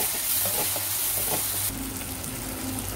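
Tomatoes going into a frying spiced masala for a paneer dosa filling: a steady sizzle and stirring, then a sudden louder, hissing burst of frying that continues alone to the end.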